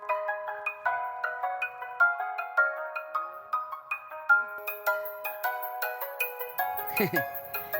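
A melodic mobile phone ringtone plays a bright, repeating electronic tune, moderately loud and near, with a brief rustle toward the end.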